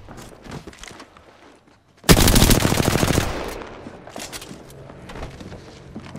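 Rapid automatic gunfire in the Apex Legends battle royale, a loud dense burst of about a second and a half cutting in sharply after a quieter stretch, then fading into ambient game sounds.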